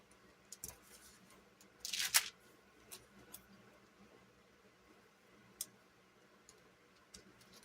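Scissors snip a sticker in half during quiet planner decorating, a single crisp cutting burst near the two-second mark with a few faint ticks and taps around it.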